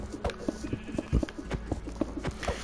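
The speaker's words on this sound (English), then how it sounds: "Let's test this on a sheep." A sheep in a video game bleats over quick thumping footsteps and hits, short repeated bleats mixed with scuffling sounds in a busy, close-up scene.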